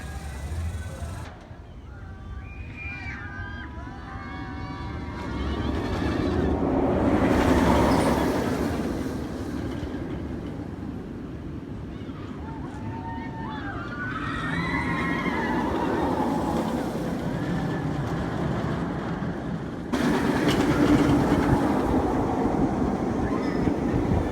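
The Titan roller coaster at Six Flags Over Texas roars along its track in a continuous rumbling rush, with high whooping screams rising and falling over the noise throughout the ride.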